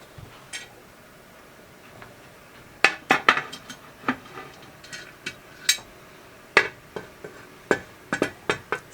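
A metal lid is fitted onto a pot during home canning of potatoes, making a scattered series of light clinks and taps, close by and fairly quiet, with short gaps between the metallic contacts.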